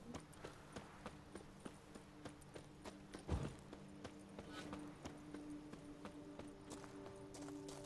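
A riding knight's horse clip-clops along in The Witcher 3, a steady rhythm of fairly faint hoofbeats with one sharper thud midway, under quiet background ambience.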